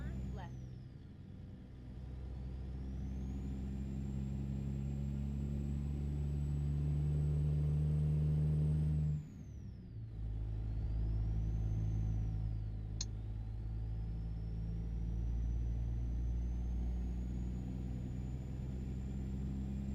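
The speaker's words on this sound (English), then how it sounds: "Can you hear the engine inside?" Truck engine in American Truck Simulator heard from inside the cab, a low steady rumble that dips briefly partway through and then resumes at the same level, with a voice talking quietly over it.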